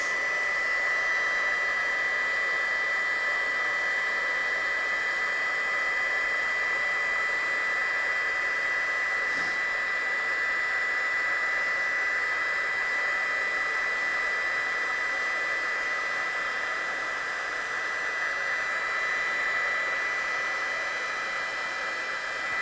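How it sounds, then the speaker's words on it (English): A heat gun blows a steady, loud, unbroken hiss and whir while heat-setting embossing powder on a stamped card, running alone for the whole stretch. "we'll heat set the embossing powder. So as soon as your powder starts to change, just move your gun along"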